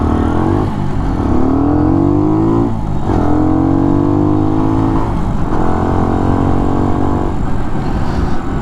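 A 2015 Skyteam Skymax 125 monkey bike engine revs loudly and close, its pitch climbing repeatedly through several gear pulls, with short dips between each rising whine.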